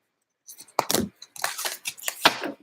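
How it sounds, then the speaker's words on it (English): Tarot cards are shuffled by hand close up, with a string of crisp, papery slaps and riffles in uneven bursts after a short silence. "I'm going to shuffle yours, Aquarius."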